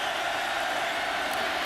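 Oklahoma Sooners home crowd at a 2009 college football game against BYU, a steady, dense roar of thousands of fans filling the stadium without pause.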